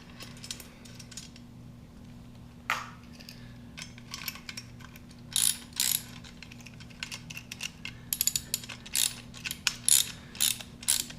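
A nut is tightened with a ratcheting wrench during the assembly of a Bucket Buddy, giving quick bursts of crisp clicks against a low steady hum. The clicking grows busier and more rhythmic toward the end, close but fairly quiet.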